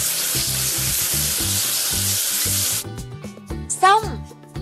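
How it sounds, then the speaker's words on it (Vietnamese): Water sprays onto a toy machine to rinse off foam, a steady broadband hiss for nearly three seconds, then it cuts to a clearer passage with clicks and a short whistling tone. "Giờ hãy cùng rửa sạch bọt nào."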